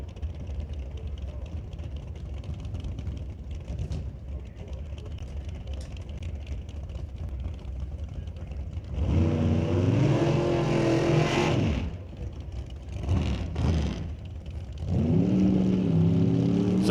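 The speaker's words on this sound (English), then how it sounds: "Cade Shirk in the green dragster, coming up left side" Drag racing cars at a Top Comp final, a green dragster and a small Chevrolet Beretta, heard as a distant engine rumble that swells into loud revving bursts, with a commentator talking over it.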